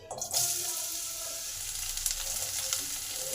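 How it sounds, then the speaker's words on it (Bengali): Chopped pointed gourd (potol) sizzles in hot mustard oil, a loud, steady crackling hiss that starts abruptly and holds close and even throughout, with no voices. "এই পটলগুলো আগে একটু ভালো করে ভেজে নেব"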